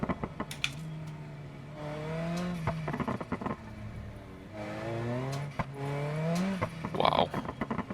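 A front-wheel drive Sherrier Ardente in BeamNG revs hard through its gears, the engine note climbing and dropping in repeated sweeps with rattling transients and a brief squeal near the end, moderately loud with no voices.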